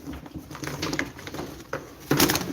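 Tumbler pigeons of the Hayalet breed at a live bird auction, soft cooing and wing patter close by, with a sharper burst of fluttering near the end amid indoor room noise.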